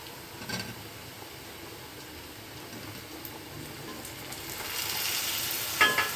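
Tomatoes and browned onion sauté in a pan, heard as a low, steady sizzle with a few stirring scrapes, growing slightly louder toward the end, with no one speaking.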